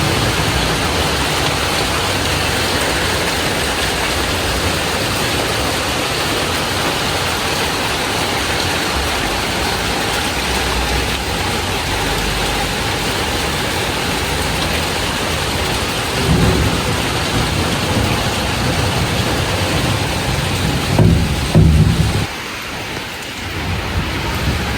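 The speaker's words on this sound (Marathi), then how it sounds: "हे आता पाऊस चालू झालाय" Heavy rain pours down steadily as a loud, dense hiss, and thunder rumbles deeply near the end as the downpour continues.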